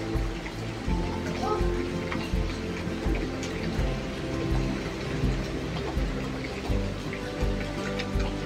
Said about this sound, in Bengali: বাইরের আজকের পরিস্থিতি দেখো, মুষলধারে বৃষ্টি পড়ে যাচ্ছে।